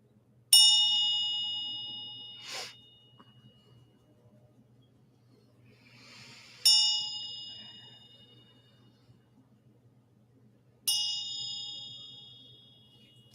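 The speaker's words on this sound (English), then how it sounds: "I'm going to ring the bell." A resonant bell is struck three times, each strike ringing out bright and slowly fading, spaced several seconds apart against a quiet background.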